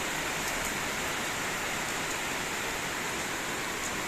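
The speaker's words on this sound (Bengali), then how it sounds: "বিশাল বৃষ্টি হচ্ছে দেখো।" Steady, dense hiss of heavy rain pouring down continuously, loud and close, with no voices.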